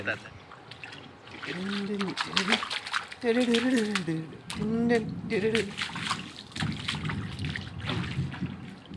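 Rainwater trickles and drains steadily beneath a person talking nearby.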